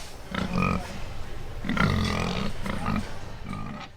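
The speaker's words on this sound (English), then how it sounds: "behind me is a scale, and I'm weighing my pig" A show pig grunts repeatedly while standing on a weighing scale at a busy livestock show, its low grunts coming in short bursts over steady crowd and barn noise.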